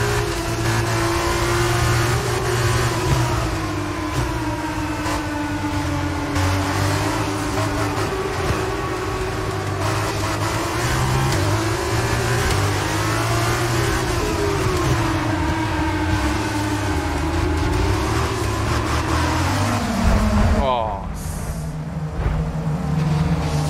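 A Formula 1 car engine in the video game F1 2022 wails steadily for over twenty seconds. Its pitch climbs and falls as the car revs and shifts, with a short dip near the end.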